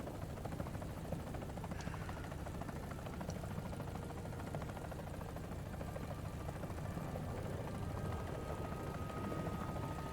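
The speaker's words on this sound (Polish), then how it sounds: "mają helkę, która musi sobie centralnie" Helicopter rotor and engine drone from the War Thunder combat game, a steady loud chopping roar running continuously throughout, with no talk over it.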